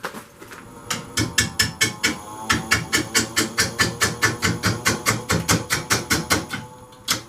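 Walnut bowl blank rough turning on a wood lathe, badly off balance, giving a steady loud rhythmic thumping knock about three beats per second over a continuous cutting hiss.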